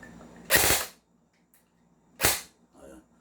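Two sharp, loud shots from an HK M110A1 replica rifle fired in single fire, spaced about two seconds apart, each a crisp crack with a short tail and a faint click after the second.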